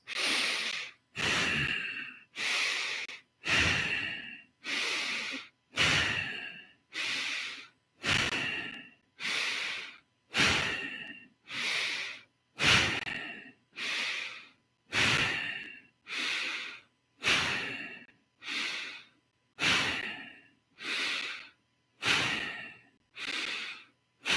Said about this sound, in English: let's begin with 30 rounds of bow breathing, followed by 60 seconds of exhaling and holding